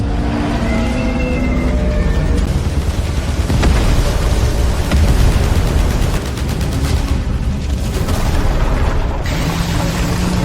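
A main cannon blast from an alien mothership in an anime battle: a loud, sustained roaring barrage with heavy booming rumble and crackling bursts, filling the whole stretch without any talk.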